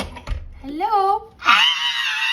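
A man lets out a loud, sustained scream at close range, rising and holding steady for about a second, while his dogs play nearby; a brief thump and scuffle precede it.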